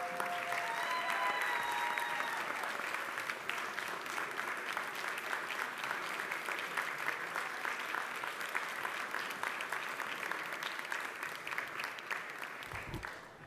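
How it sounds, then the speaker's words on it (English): A New York City Council audience gives sustained applause, many hands clapping in a dense, steady wash that slowly fades over about thirteen seconds, with a brief whistle-like tone near the start. "Let's give her a very big round of applause."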